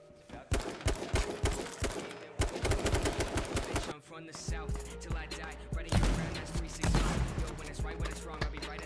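Gunfire in the battle royale game H1Z1 King of the Kill, rapid bursts of sharp shots in quick clusters, loud and close, with a brief lull midway before more firing.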